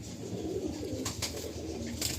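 Pigeons in a crowded loft give soft, low cooing murmurs throughout, with a few brief flutters or scuffles standing out near the middle and end, fairly close and steady without any speech.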